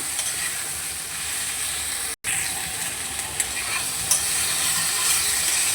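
Vegetables with green chillies are stirred in a frying pan, a steady hissing sizzle with occasional light spoon scrapes and one brief dropout, close and even, no talking.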